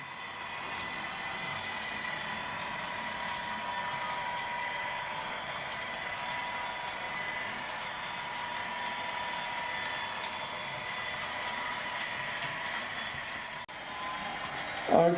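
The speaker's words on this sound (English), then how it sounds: "I'm trying to give you as much as a panorama as I can as this loco comes round" A Bachmann class 57 model locomotive, number 57009, runs on a layout track with a steady high motor whine and faint rail hum, continuous and moderately quiet, ending with a brief louder clatter.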